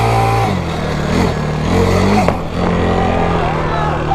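A small FRP Sahara 40 ATV mini quad engine drones steadily during a ride, rising and dipping with the throttle. People talk over the engine.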